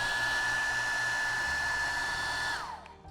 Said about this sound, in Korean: 이제 드라이기로 열팬을 지움과 동시에 말려줄게요.